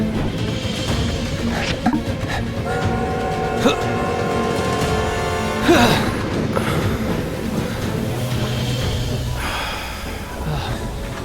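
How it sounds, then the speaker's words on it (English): A train rumbles and clatters past on its tracks in the desert town of My Time at Sandrock, with a long sustained squeal and a loud burst midway while voices talk over it. "Train's coming."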